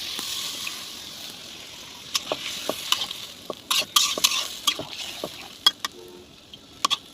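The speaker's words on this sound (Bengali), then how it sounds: "এখন ঝোলে পানি দিতেছি" Bottle gourd fish curry simmers on the stove while utensils stir and clink against the pot, making close, irregular scraping knocks over a soft bubbling hiss.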